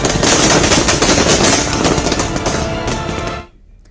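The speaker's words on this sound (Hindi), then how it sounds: "बेंगलुरु में जेडीएस के कार्यकर्ताओं ने भी जमकर पटाखे चलाए।" Dense, continuous crackle of firecrackers set off in celebration by party workers in Bengaluru on election result day, loud and sustained rapid bursts for over three seconds before cutting off abruptly.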